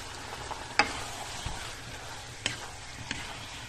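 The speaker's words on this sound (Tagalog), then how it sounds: "Ayan, nagisa na ako ng bawang, sibuyas at luya." Garlic, onion and ginger sautéing in a pan for chicken adobo, a steady close sizzle broken by a few sharp utensil clicks and scrapes; no voices.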